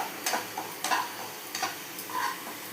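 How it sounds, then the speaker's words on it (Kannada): Semolina roasts in ghee over medium heat, giving a gentle continuous sizzle broken by regular scraping strokes of a spatula stirring it, roughly one stroke every half second to second. "ರವೆ ಎಲ್ಲ ಚೆಂದಾಗಿ ಹುರಿದು ಎಣ್ಣೆನೂ ತುಪ್ಪ ಬಿಟ್ಕೊಂಡು ಬರ್ತಾಯಿದೆ."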